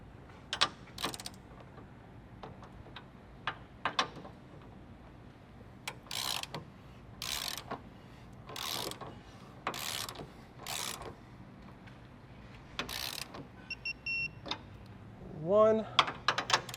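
A hand ratchet with a 15 mm socket tightens subframe nuts and bolts under a Nissan G35 sedan during an aluminum brace install, giving several short bursts of close, quick clicking with pauses between them and a brief metallic clatter near the end.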